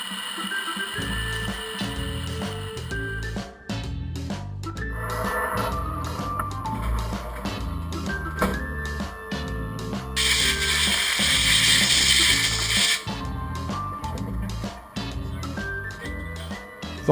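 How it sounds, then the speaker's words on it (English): A steel flywheel being turned on a lathe in a workshop, steady rhythmic mechanical clattering and grinding that runs throughout, swelling louder and harsher near the middle. "the excess steel is removed on the lathe"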